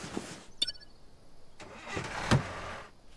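A car engine starting up in the video game Thief Simulator, a short cranking burst that catches and settles briefly, heard close with no talk.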